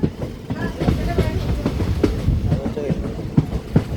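A train on the Punalur to Aryankavu line runs along the tracks with a steady rumble and rhythmic clickety-clack of the wheels, heard close from inside, with faint voices mixed in.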